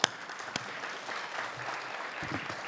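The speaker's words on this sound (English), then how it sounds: "Let's give another round of applause to her." Audience at a structural biology breakfast workshop applauding after a talk, with a few sharp claps up front, then a soft, steady patter of clapping from a small room.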